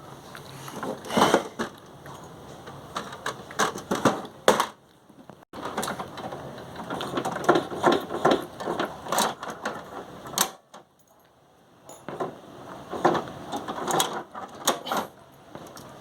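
An HP inkjet printer with a refilled HP 680 cartridge runs through a print job: whirring, clicking and ratcheting mechanical passes in bursts, with short pauses between carriage movements, close by.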